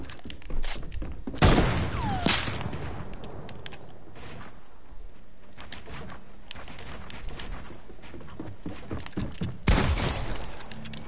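Sniper gunfire in an online video game match, with sharp, loud broadband shots near 1.5 and 9.7 seconds and smaller cracks and thuds between them over steady game noise.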